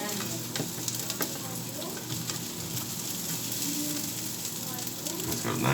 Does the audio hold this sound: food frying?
yes